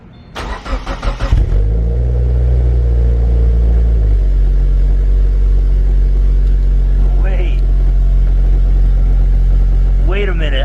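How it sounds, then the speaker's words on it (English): A Subaru Forester XT with an Invidia Q300 catback exhaust cranks and fires up, then settles into a steady, fairly quiet idle rumble. A brief rev flare comes at startup, and a voice speaks faintly over the idle near the end. "So let's do a quick startup."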